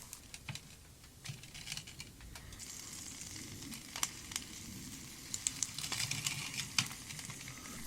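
Applewood smoked bacon frying in a pan over a campfire outdoors, a faint steady sizzle with soft crackles and occasional sharp pops.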